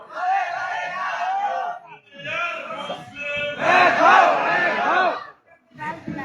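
A large sermon gathering chants the takbir in unison, several loud roaring waves of massed voices rising and falling, close and full, separated by brief pauses.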